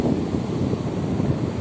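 Ocean waves wash and break along the beach at Pontal do Ipiranga in Linhares, a dense, rumbling surf mixed with wind buffeting the microphone, with no voices.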